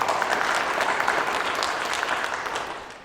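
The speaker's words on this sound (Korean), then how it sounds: "우리 박수 한번 쳐보십시오" Audience applause at a forum held ahead of the 43rd May 18 Gwangju Democratic Uprising memorial ceremony, a steady crowd of clapping hands that holds for about three seconds and then begins to fade.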